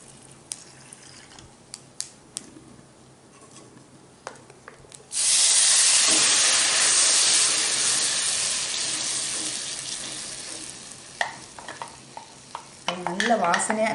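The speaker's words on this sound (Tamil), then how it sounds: "நம்ம தாளிச்சுட்டு இந்த அரைச்சி வச்சுருக்க விழுதை வந்து அதில் அப்படியே தண்ணி கலந்து ஊற்றணும்." Loud sizzling and hissing bursts out suddenly as ground spice paste mixed with water is poured into tempered spices in hot oil, then slowly settles into a steady frying sizzle with small clatters.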